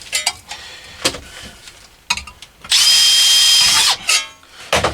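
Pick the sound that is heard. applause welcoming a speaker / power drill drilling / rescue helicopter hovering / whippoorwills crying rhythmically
power drill drilling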